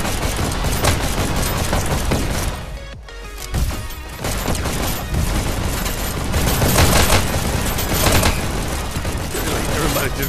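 Dense, sustained gunfire from the VR shooter Hyperdash on Quest 2, a loud continuous barrage of shots and impacts with a brief lull near the three-second mark, with game sounds layered throughout.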